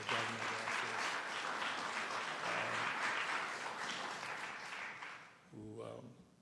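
A crowd applauds at a New Jersey state budget event, broad sustained clapping that fades near the end as a voice begins speaking over it.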